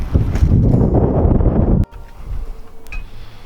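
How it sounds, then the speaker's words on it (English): Strong gusts buffet a microphone outdoors on a windy day, a loud roaring rumble that cuts off abruptly partway through, leaving quieter breezy background with faint ticks. "It's a windy day. Blew my camera over."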